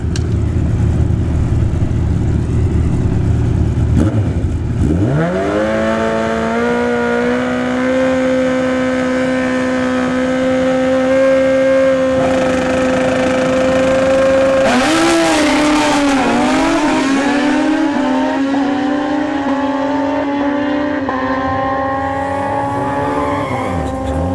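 Drag-racing motorcycles, a ZX14 and a Suzuki Busa, roar loudly at a motorsports park strip, engines holding a high rising pitch as they launch and accelerate down the track, with a sharp shift-like surge midway before fading.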